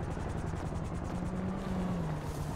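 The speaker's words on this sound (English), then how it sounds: "Oh, I hear the heli dude." A helicopter circles overhead in a police-themed video game, its rotor thumping steadily at a distance with an even, droning hum that holds without letup.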